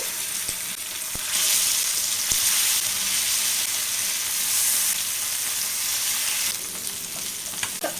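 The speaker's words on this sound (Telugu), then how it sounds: "మిగతా చేప ముక్కల్ని కూడా ఇలాగే ఫ్రై చేసుకుంటే సరిపోతుంది" Fish pieces frying in oil in a pan give a loud, close, continuous sizzle that swells and eases slightly, with a few faint clicks underneath.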